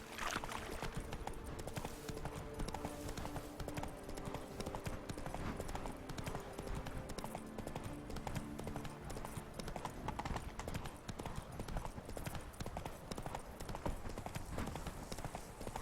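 Continuous rhythmic clip-clop of a horse's hooves trotting in the video game The Witcher 3: Blood and Wine, steady and fairly quiet under a dense background wash, with faint voices now and then.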